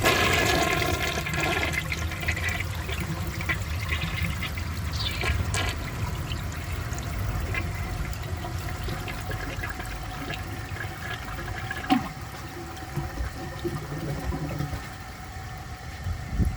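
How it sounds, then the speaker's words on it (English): A 1964 Sears toilet flushes while a dish towel is forced down the bowl: a steady, loud rush and gurgle of water that lasts the full stretch and tapers a little toward the end, with no talking. "let's see if it can take a dish towel"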